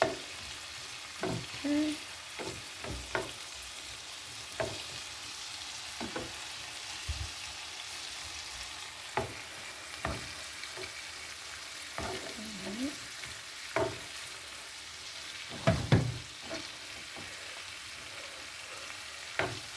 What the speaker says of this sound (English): your spinach and your shrimp is cooking